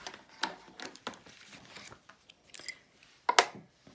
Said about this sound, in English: I'm just going to use the twine I've got and use my scissors